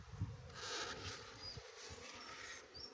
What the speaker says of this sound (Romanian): Aici avem albinuțe.